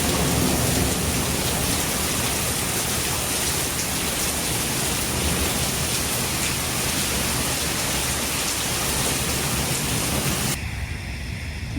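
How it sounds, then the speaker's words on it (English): Heavy rain pours steadily in a sudden storm rolling in, a dense, loud hiss of drops drumming on surfaces with a low rumble beneath, continuous for the whole stretch until the noise drops away near the end. "Look at this crazy storm that just rolled in."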